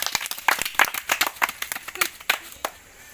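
Children clap their hands in a brisk round of applause, a quick run of close, sharp claps that thins out over about three seconds.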